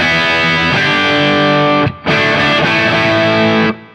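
A heavily distorted electric guitar plays a classic hard rock riff with muted thirds, loud sustained chords that cut off briefly near the middle and then ring on again before stopping.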